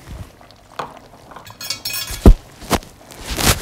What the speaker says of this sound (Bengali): সবগুলো একসাথে নাড়াচাড়া করে দিচ্ছি